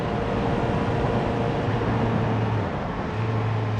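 Constant city traffic noise heard from a motorcycle riding through a street in Japan: a dense steady roar of engines and road noise close around, with occasional low engine drones rising and falling, no talk.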